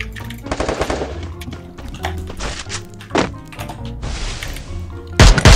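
Gunfire in a shooting video game, rapid bursts of automatic fire and heavy thuds layered over game sounds, loud and near, with a final louder burst at the end.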